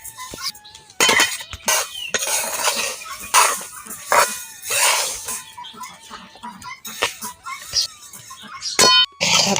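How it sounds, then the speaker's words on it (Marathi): Flax seeds and chilli seeds dry-roasting in a pan, with a spoon or spatula clinking and scraping against the metal in repeated stirring strokes, close and fairly loud, with faint background noise. "आता हे चांगलं भाजून घेऊ खमंगोने"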